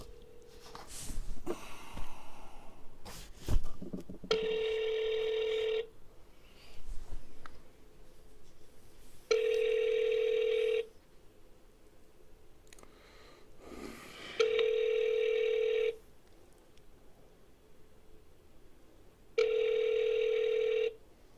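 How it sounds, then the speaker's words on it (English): A telephone call rings out before going to voicemail: four evenly spaced electronic ring bursts, each about a second and a half, separated by pauses, with faint handling noise between them. "Your call has been forwarded to the voicemail for Norma Chalman."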